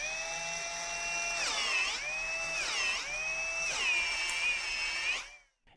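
An electric drill whines at high speed, its pitch sagging three times as load slows it and then recovering, before it cuts off at the end, close and clear with no talking.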